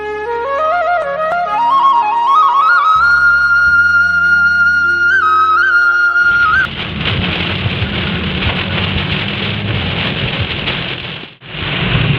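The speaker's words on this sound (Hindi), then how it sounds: "बड़ी मूसलाधार बारिश हो रही है" Heavy torrential rain pours down on the highway near Bhojipura on the way to Bareilly. After a musical opening, a loud, dense hiss of downpour takes over and keeps going steadily, with a brief dip near the end.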